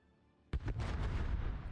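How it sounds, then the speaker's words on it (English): Heavy naval guns boom in a World of Warships match, with a sharp blast breaking the quiet and then a sustained roar of rumbling gunfire and explosions that stays loud to the end. "They're shooting at him with SAP and Monmouth's AP"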